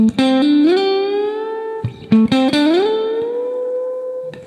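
Two electric guitar phrases, each picking notes then bending and sliding upward to a sustained, ringing high pitch; clear and alone.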